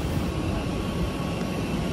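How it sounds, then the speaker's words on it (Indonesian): A steady, broadband roar from the engines of an Airbus A320 airliner heard close by, constant and loud throughout with no talking. "Itu dia pesawat kita Airbus A320 PKLAF."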